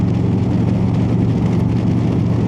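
Harley-Davidson Road King motorcycle engine running with a steady, deep, loud rumble close by, holding an even throb without any revving.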